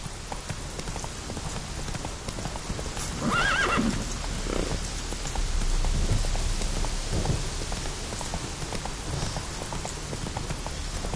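A horse in The Witcher 3 game gallops with rapid clip-clop hoofbeats over a bed of rain noise, and one clear whinny rings out partway through. No voices are heard.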